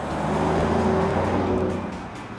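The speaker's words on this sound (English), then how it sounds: "when you put that foot to the floor, it opens up wide and gives you the full exhaust note" A 2013 Mercedes-Benz S63 AMG at full throttle gives a loud, close exhaust roar. A steady droning engine tone swells and then eases off slightly within a couple of seconds, with no one speaking.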